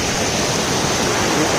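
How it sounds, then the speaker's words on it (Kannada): A waterfall in front of a house, a dense, steady roar of rushing water, loud and continuous with no gaps. "ನೋಡಿ ನಮ್ಮ ಫಾಲ್ಸ್"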